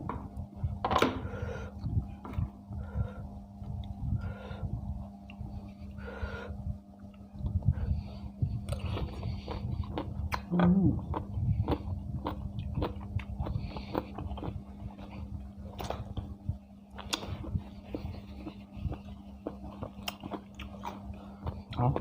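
Someone eats papaya salad with fresh shrimp, close and wet, with irregular bites, crunches and chewing spread over about twenty seconds and no talking.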